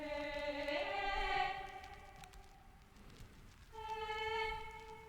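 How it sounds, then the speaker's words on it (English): Balkal Ethnic Orchestra Quartet A Legato voice bank played in FL Studio, with sustained harmonic vocal tones gliding between notes in two phrases separated by a brief quieter gap. "I came in with this Quartet A Legato."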